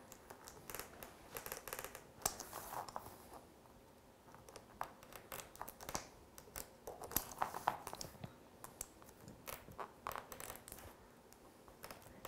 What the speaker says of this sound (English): And I will cut the last two stars out.